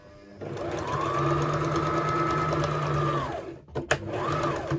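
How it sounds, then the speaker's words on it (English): A sewing machine runs in one steady sustained burst, sewing a side seam on a tiered maxi skirt, then stops briefly and restarts for a short back stitch near the end; close and alone without talk. "get my needle in, do a back stitch, and then sew down"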